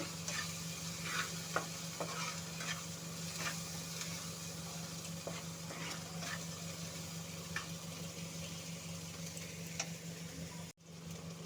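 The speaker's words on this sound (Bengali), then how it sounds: "মশলাটা একটু ভাজা ভাজা করে নেবো" Spice masala of salt, turmeric and chili powder frying in a pan for a ridge gourd and fish curry, with a steady sizzle and repeated scraping stirs and knocks throughout, close and alone.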